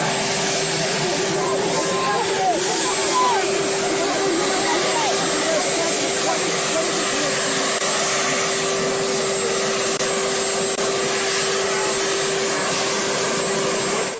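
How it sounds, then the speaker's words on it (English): Marine One, the presidential helicopter, produces a loud, steady whining roar with a sustained high tone, continuous and close throughout, while people talk underneath. "the closer they get to the helicopter, the more the noise is"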